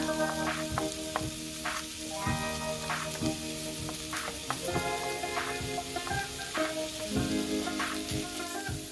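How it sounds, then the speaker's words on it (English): Leeks, onions and garlic sauté in a hot saucepan for roasted tomato soup, a continuous sizzle broken by regular clinks and scrapes of a utensil stirring against the pan. "In a hot saucepan, saute the leeks, onions and garlic."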